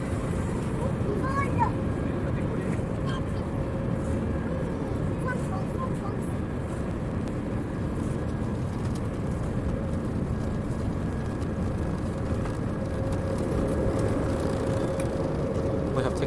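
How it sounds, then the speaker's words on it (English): A British Airways airliner taking off from Heathrow, heard from inside the cabin as a steady, even engine roar and rumble that holds for the whole stretch, with faint chimes and a voice talking at times. "We have takeoff."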